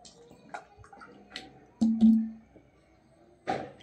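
Someone drinks water from a Coca-Cola bottle in one go, making a few wet gulping and sloshing sounds with short pauses between swallows. The sounds are close and fairly quiet.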